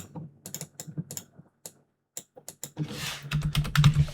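Rapid, uneven clatter of typing on a computer keyboard, close and clear, with short pauses between bursts and a louder flurry of keystrokes near the end.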